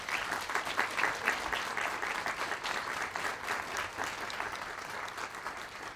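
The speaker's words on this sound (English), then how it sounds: "So let's give all of them a round of applause." A congregation in a church gives a round of applause at a reopening dedication service. Many hands clap in a thick, sustained roar that swells slightly early on and then eases gradually toward the end.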